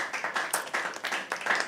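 An audience claps after a poetry reading at a live open mic night, the applause coming in steady, uneven bursts that carry on through the whole stretch without any voices over it.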